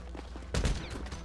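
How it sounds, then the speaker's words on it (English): Gunfire in Grand Theft Auto V, a sudden loud burst of several shots after a quieter stretch, ringing briefly as it fades. "Oh, I shot a random lady."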